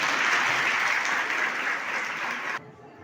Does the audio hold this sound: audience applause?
yes